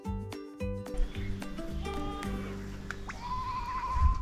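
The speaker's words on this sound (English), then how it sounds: "A dawn chorus of goats." Several goats bleat repeatedly at dawn near a tropical anchorage off Vanua Levu, Fiji, with overlapping calls near and far over a background of outdoor noise.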